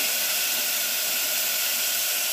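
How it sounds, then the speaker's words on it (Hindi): Chicken frying in a hot pot for soup gives a loud, even, bright hiss that holds steady from start to finish, with no voices. "चिकन को डाल दिया अब इसे हमें भूनना है"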